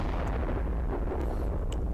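Steady heavy rumbling from a World of Tanks-style tank battle, a dense wash of distant cannon fire and low booms filling the whole stretch at an even loudness, with a couple of faint sharper pops and no talk.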